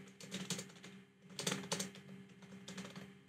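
Someone types on a computer keyboard while entering screen tip text in Excel. Quick clusters of soft, close key clicks run in uneven bursts, quiet and with no voices.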